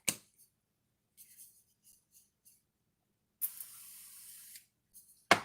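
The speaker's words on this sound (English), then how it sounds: "I am going to spray it with my avocado oil." Avocado oil cooking spray hisses from a can onto a waffle iron in one sustained burst of about a second, with a few brief handling clicks and taps around it and no talk.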